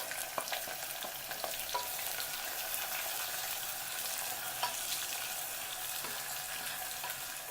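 Chopped onion, chilies and dry whole spices fry in a pressure cooker with a continuous close sizzle, broken by occasional light clicks of stirring.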